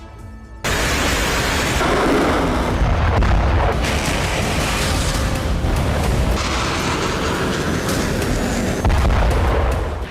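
Explosions from a Ukrainian missile strike in Orsk, Russia, heard as a loud, sustained, rumbling roar after a sudden onset, with heavy booming swells and crackling bursts continuing throughout.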